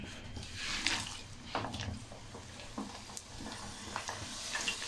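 Potato fries bubble and crackle in hot ghee, faint and close, with scattered light clinks and pops over a soft frying hiss.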